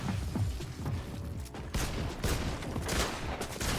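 Rapid bursts of gunfire in a Fortnite solo match, including pump shotgun blasts, sharp loud shots cracking in irregular clusters over busy game noise.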